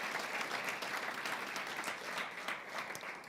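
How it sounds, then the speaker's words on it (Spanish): A church congregation claps loudly for the Lord during a city church meeting, a sustained, fairly even burst of many hands with faint crowd murmur beneath and no spoken words. "Dale un fuerte aplauso al Señor."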